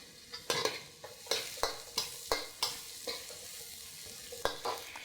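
Garlic and chilli frying with softened onion in a pan for Indonesian fried rice, stirred with about a dozen quick rhythmic scraping strokes over a soft sizzle, close and clear.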